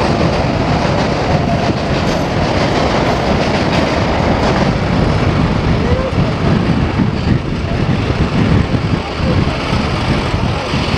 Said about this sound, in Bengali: ট্রেন যাচ্ছে, দেখ জো, ট্রেন যাচ্ছে।